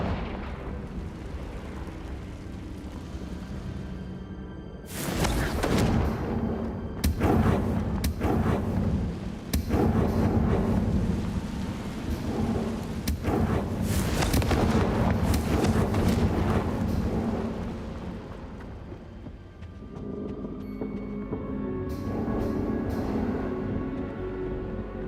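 Confringo spell blasts in the video game Hogwarts Legacy: loud, sustained rumbling explosions with repeated booming bursts and crackling impacts over about twenty seconds, with quieter game ambience before and after.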